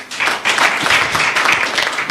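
Applause at a county government monthly press briefing in Meru, a short burst of dense clapping from a small crowd, loud and close, without speech.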